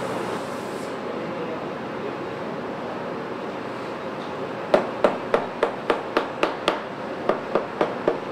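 A boot-making machine in a long-running boot shop hammers onto a metal plate, a close, loud series of about a dozen sharp, evenly spaced strikes in two bursts after several seconds of quiet workshop hum.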